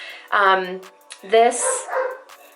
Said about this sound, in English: my brother's dog is going crazy